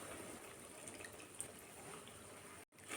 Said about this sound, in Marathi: थोडंसं पाणी घालायचं आहे